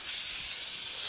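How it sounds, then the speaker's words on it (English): Aerosol spray glue hissing steadily onto foam being glued down in a quarry build, a close, continuous airy spray lasting about a second with no talk. "Spray the bottom of this."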